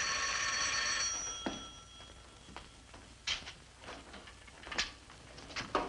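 An old-fashioned telephone bell rings in a radio drama set in Asia, a bright ring that fades over the first second or so, followed by faint clicks and handling noises.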